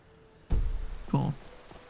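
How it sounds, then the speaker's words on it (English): Rain in the video game Skyrim, played with the Elysium Remastered mod, sets in abruptly as a steady broadband hiss of falling rain, with a short louder patch partway through. "It's nice and raining."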